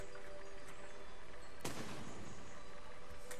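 A bomb blows up in the physics building game Besiege, one sudden blast bursting through steady background engine noise and then fading.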